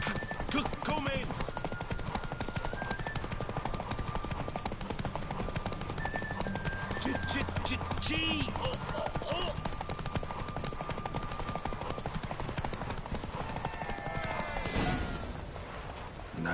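Horse hooves clip-clop through a race in the video game The Witcher 3, a steady run of hoofbeats under busy game sound, music and shouted voices, with a brief whinny near the middle.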